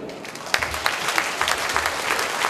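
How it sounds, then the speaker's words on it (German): Crowd applause at the opening of a youth handball tournament, a steady close patter of clapping that runs for the whole short stretch with no voices on top. "Mal einen Beifall hier."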